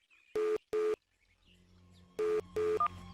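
Four tones from a phone being dialed sound in two evenly spaced pairs, each a clean beep, with a faint steady hum between them and a short higher blip at the end.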